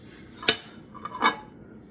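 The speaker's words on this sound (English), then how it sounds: "So I get my spatula. I cut too big of a piece." A spatula cuts through hot lasagna in a dish and lifts a serving, making two sharp close clinks of metal on the pan with soft scraping between them.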